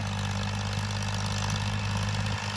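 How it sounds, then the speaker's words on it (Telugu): An old Farmtrac 45 tractor engine runs with a 7-foot Shaktiman rotavator attached, giving a steady, close, unbroken drone with a low throbbing beat and no voices. "ఇంజన్ బీటింగ్ చూడండి ఎలా ఉందో"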